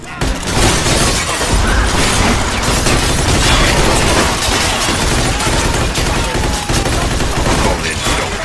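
A Mafia 2 gunfight in which many armed men attack at once: loud, dense, overlapping gunfire with bursts of automatic fire and shattering impacts, nonstop throughout, with a voice barely audible beneath.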